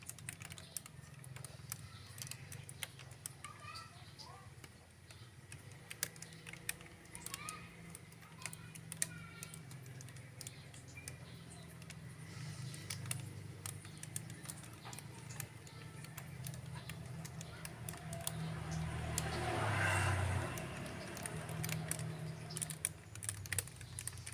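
Fermenting mixture giving off faint, irregular crackles and tiny ticking pops, continuous and quiet, swelling briefly a little louder late on.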